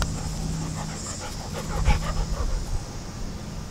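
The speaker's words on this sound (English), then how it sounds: "Look at that happy dog." A happy dog pants rapidly and steadily close by, with a few faint whimpers, in an outdoor setting on a nice day in Columbus.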